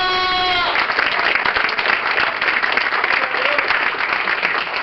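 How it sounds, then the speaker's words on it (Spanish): Church congregation at a Sunday morning service breaking into loud, sustained clapping, cutting in over a brief held musical tone at the start and continuing steadily. "Dale un aplauso a Dios en esta mañana."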